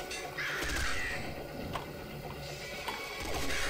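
Ravens in the video game Nuclear Throne give harsh, repeated caws over busy game sound effects. The cawing is fairly loud and clear and lasts the full few seconds.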